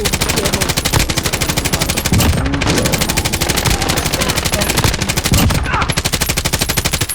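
Sustained, loud, rapid automatic gunfire in Call of Duty Warzone rattles on in an even rhythm of closely spaced shots, with brief dips and heavier bursts throughout.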